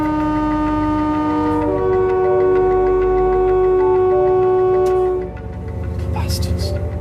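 A passenger train sounds a long, loud horn at trespassers on the line, holding steady for several seconds, then cuts off, leaving a rumbling engine and brief voices nearby.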